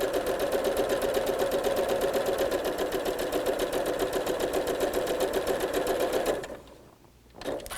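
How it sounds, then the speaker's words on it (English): A sewing machine stitches along a drawn line on quilt fabric, a fast steady mechanical whirr with rapid rhythmic needle clatter, close and continuous, stopping abruptly near the end before a brief restart. "you're going to sew right down that line"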